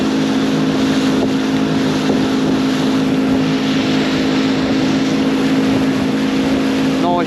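A small fishing boat's outboard motor drones steadily on the Solent on the run back to shore, a loud, constant engine hum with wind buffeting the microphone.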